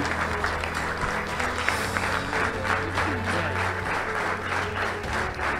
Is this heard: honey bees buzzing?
no